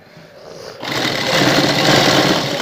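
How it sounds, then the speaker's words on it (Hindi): A sewing machine starts up and runs at a steady fast whir, stitching a decorative design along a shalwar hem, loud and close with no talking. "दूसरी सिलाई इसके ऊपर लगाएंगे"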